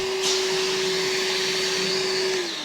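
A small handheld vacuum cleaner from an Evolution Tools beginners bundle runs with a loud, steady motor whine and airy rush, close up, winding slightly down at the very end.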